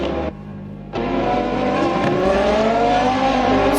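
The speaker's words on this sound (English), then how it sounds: "Well, the cars are out on qualifying." Race cars at the Dover Raceway qualifying session for the Caribbean Motor Racing Championship, engines loud and continuous with rising revs and accelerating passes, brief dip then sustained roar, no voices.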